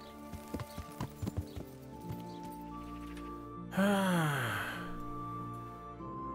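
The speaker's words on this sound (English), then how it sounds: "Horse." Horse hooves clip-clop in Kingdom Come: Deliverance, a quick run of sharp, close knocks over a steady game ambience, followed by a louder whinny-like cry that sweeps downward.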